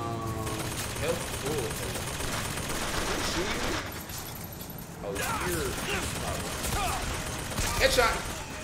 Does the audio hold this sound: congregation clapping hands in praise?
no